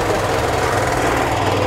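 A diesel engine driving a feed chopper machine runs loud and close in a steady, rough, vibrating drone, with no speech.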